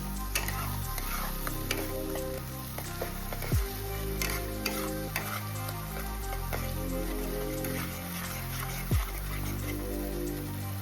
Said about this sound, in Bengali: পেঁয়াজের পেস্ট দিয়ে দিলাম। খুব ভালোভাবে নাড়তে হবে যতক্ষণ না পেঁয়াজের গন্ধটা বেরিয়ে যায়।